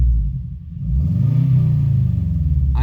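A tuned Toyobaru's engine idles low, then climbs into a rising rev as the throttle is pressed and eases back, loud and close with no voices.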